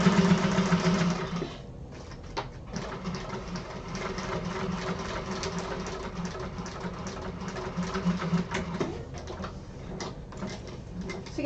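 A sewing machine runs a line of stitching through an uninterfaced bag lining, a close, steady mechanical whir with a brief pause near the start and a few small clicks, with no talking.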